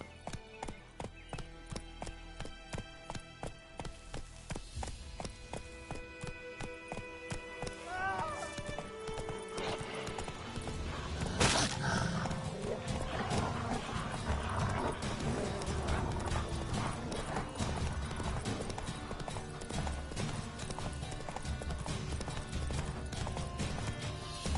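Roach, the horse in The Witcher 3, gallops with steady rhythmic hoofbeats and an occasional whinny, set in dense game music and effects while a voice speaks over it.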